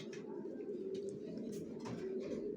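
Original racer pigeons, a female among them, give soft, continuous low coos at close range, quiet and unbroken, with faint scratchy noises scattered throughout.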